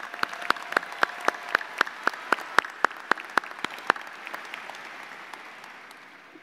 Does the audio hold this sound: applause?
yes